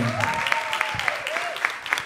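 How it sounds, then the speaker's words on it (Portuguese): An audience at a coaching and mentoring workshop claps under ongoing talk and musical tones, the applause steady but partly masked by voices throughout. "Uma salva de palmas para a Viviane."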